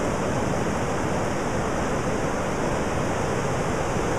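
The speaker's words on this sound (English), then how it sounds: "il pleut maintenant ici" Rain falls in Tahiti as a dense, constant hiss of drops, steady and fairly loud throughout with no voices.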